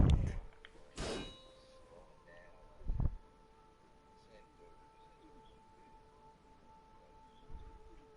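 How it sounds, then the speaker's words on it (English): A sinister bell in the video game Bloodborne rings in a few sharp metallic chimes with a long ringing tail, and softer clanks follow over a quiet background. "Searching for the chime of a sinister bell."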